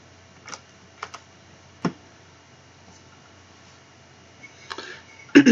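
Keys pressed on a TI-83 calculator keypad while values are entered: a few sparse, close plastic clicks spread out with pauses between them, then a quick cluster of presses near the end.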